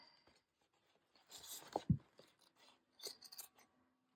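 Scissors snip through paper for journal crafting, giving a few short, close, crisp cuts separated by brief pauses with no voices present.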